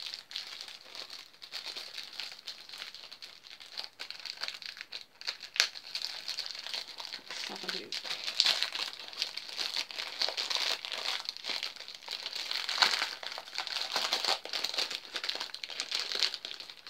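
A bag of craft mail rustles and crinkles steadily and close as items are pulled out, a continuous papery crackling that runs nearly the whole time without speech.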